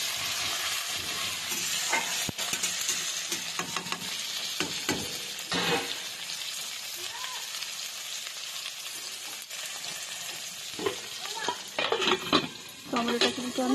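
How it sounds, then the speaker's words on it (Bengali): Tomato fries in a pan for pasta, a steady sizzle with repeated scraping and stirring strokes and occasional clinks of a utensil against the pan, fairly close. "টমেটোটা কিন্তু আমি হালকা করে ভেজে নেবো"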